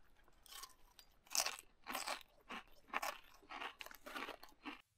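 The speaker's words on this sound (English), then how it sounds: "You seem to constantly chew with your mouth open." Crunchy bites of fresh-cut jalapeno chewed open-mouthed, close and loud, a steady run of about eight crisp crunching bursts with brief gaps between them.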